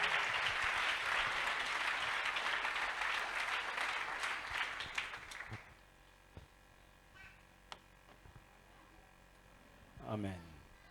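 A church congregation applauds loudly for about five seconds before the clapping fades away, leaving sparse noises and a brief voice near the end.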